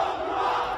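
Crowd noise from a street protest, a dense roaring mass of voices heard steadily at moderate loudness for a brief moment, with no distinct speech.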